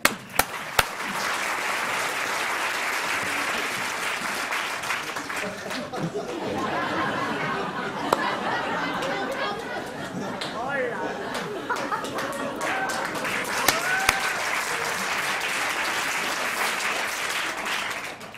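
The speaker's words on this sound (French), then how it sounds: "Merci Mix et Remix, on peut l'applaudir." Audience applause at a French-language talk on stage, a long round of clapping that swells and fades, mixed with chatter and some laughter from the crowd.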